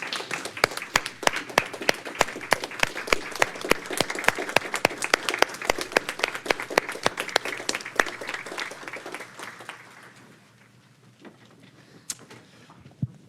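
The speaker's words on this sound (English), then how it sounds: "Let's give her a round of applause." Audience applause at a quarterly board meeting: dense clapping from a roomful of people that holds steady for about eight seconds, then thins out and fades to near silence with a few last claps.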